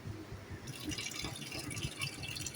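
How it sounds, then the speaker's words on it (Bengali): Jute leaves being washed in water by hand, with splashing, dripping and wet rustling rattles that continue steadily and close up, without talk. "এবারে পাট পাতাটা ধুয়ে দিই এর ফাঁকে।"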